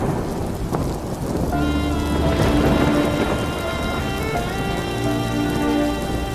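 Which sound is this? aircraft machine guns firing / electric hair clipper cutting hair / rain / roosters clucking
rain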